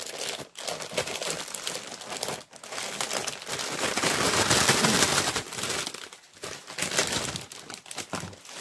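A plastic bag crinkles and rustles close up while resin moulds are unpacked from it, with irregular bursts of crackling that swell and fade.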